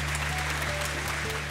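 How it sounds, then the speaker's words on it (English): A studio audience applauds an octopus named Oliver after his performance in a talent show, the clapping a steady, dense wash that holds at an even level throughout, with a low steady hum beneath. "A round of applause for Oliver,"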